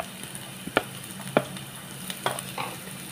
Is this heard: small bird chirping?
no